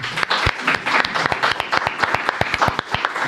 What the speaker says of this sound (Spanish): Aplausos, señores.